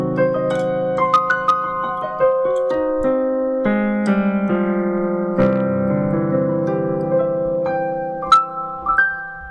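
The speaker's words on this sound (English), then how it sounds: "From a diminished arpeggio to a major arpeggio." Piano playing a diminished arpeggio that resolves into a major arpeggio, clear sustained notes stepping one after another with overlapping ringing tones, loud and close with no talking.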